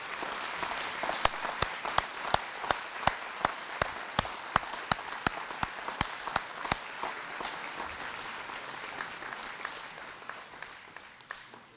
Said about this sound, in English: big round of applause for the ROTC